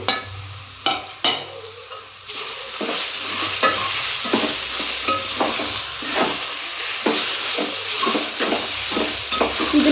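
Egg rice with pepper powder is being stir-fried in a pan: loud rhythmic scraping stir strokes ride over a constant sizzling hiss, close-up and with no talking.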